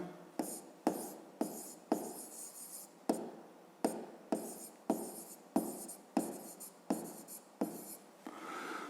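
Pen writing out a math solution on paper, a close, even run of short scratchy strokes, about a dozen in steady rhythm with brief pauses between them.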